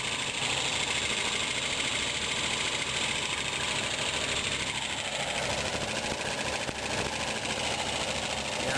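An RV engine running rough after a distributor swap, a steady close mechanical drone with uneven knocking that grows rougher partway through, continuous with no talk.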